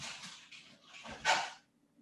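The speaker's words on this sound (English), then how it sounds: "I got a dog scratching at my door" A dog scratches at a door in short, faint bursts of scraping and rustling, with one louder scrape near the end before it falls quiet.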